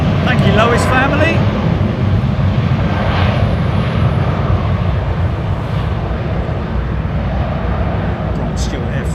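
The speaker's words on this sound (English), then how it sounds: "Air France 777-3 cruiser out west of Heathrow, heading to Paris" Jet engine roar from an Air France Boeing 777-300 passing west of London Heathrow, a loud, steady broadband rumble that holds without a break throughout, with faint voices underneath.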